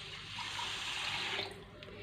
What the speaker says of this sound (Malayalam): കഴുകി കൊണ്ടുവന്ന അരിയിലേക്ക് കുതിരാനായിട്ട് നമുക്ക് വെള്ളം ഒഴിച്ചു കൊടുക്കാം.